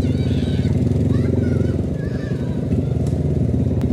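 A motorcycle engine runs close by with a steady low rumbling putter throughout, with faint wind and road noise on top.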